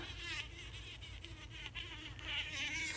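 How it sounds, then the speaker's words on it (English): A bee trapped behind flexible foam insulation gives off a faint, continuous buzzing drone that wavers slightly in pitch throughout. "Oh, look, it's a bee right there"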